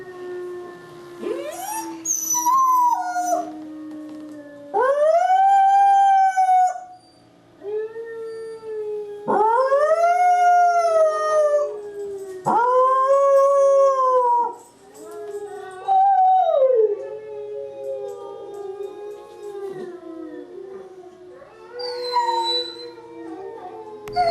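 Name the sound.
dogs in a pack howling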